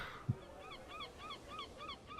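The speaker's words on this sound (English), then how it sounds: "Also, I'm loving the seagull sounds." Seagull ambience in a video game, a series of repeated honking bird calls in a regular rhythm, faint and distant, heard alone with no talking.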